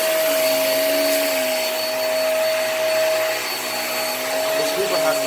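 A Hoover React vacuum cleaner sucks sand out of a carpet, its motor holding a loud, steady whine with a constant high tone throughout and no talk.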